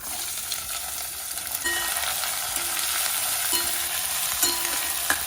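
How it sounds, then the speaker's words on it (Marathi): Onion fries with roasted peanuts in a pan, a steady bright sizzle that grows louder as the onion goes in, with occasional stirring scrapes close by. "आता आपण टाकणार आहोत कांदा"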